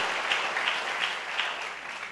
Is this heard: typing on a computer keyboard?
no